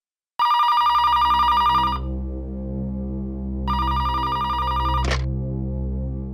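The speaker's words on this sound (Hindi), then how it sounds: "फोन उठाना है प्लीज।" A telephone bell rings in two long electronic bursts separated by a pause, loud and close, over a steady low hum.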